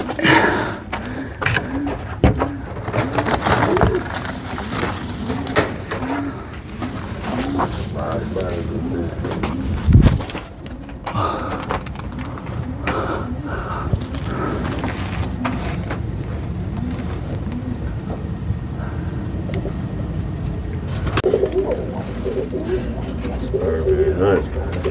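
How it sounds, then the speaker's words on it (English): Roller pigeons coo repeatedly nearby, soft rhythmic calls over a busy background with occasional talking and a brief thump partway through. "There's a lot of birds up here"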